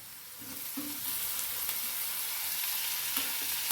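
Chopped tomato sautéing with onion in a pan: a steady close hiss of frying with a few soft stirring taps, continuous and even, no talk.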